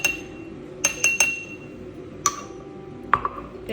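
A spoon clinks against glass spice containers several times, producing sharp bright ticks in small bursts with gaps between, close and fairly loud over a quiet background.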